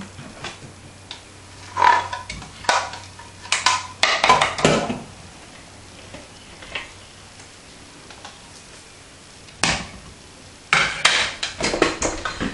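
A scraper knocks and scrapes against a large bowl while food for a fennel-apple salad is pushed into it, a series of close, irregular clatters and taps separated by quiet gaps.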